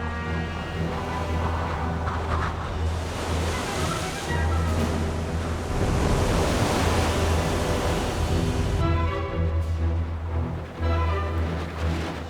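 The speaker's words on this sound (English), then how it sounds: "Huge storms, fed by all this warm, shallow water, produce high winds and enormous waves." Continuous loud roaring of heavy surf and wind, a dense wash of crashing water that swells and surges without pause, with a low musical drone underneath.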